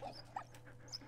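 A dog in the World War I video game Valiant Hearts: The Great War gives soft whimpering yips over a steady game soundtrack hum, brief and close.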